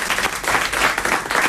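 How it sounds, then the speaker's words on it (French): Steady studio audience applause at a French comedy game show, a dense, continuous wash of many hands clapping close and loud for the whole stretch, with no voices standing out. "des applaudissements, s'il vous plaît"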